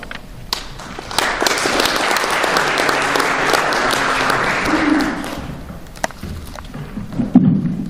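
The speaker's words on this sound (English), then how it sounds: "Please give him a warm round of applause." Audience applause welcoming the host at an international fire investigation conference on Jeju Island, a dense sustained crowd clapping that swells, holds for several seconds and then thins out.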